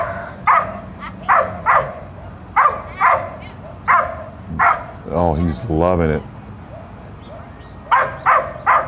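Dog barking at a dock diving competition, the SRS Super Dock Crown Championship: loud, close, evenly spaced barks in steady bursts, with a stretch of whiny yelping in the middle and a person speaking briefly.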